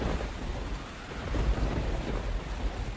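Heavy storm with steady rain and deep rolling thunder, a continuous loud wash of rainfall under low rumbles that swell midway, with no voices.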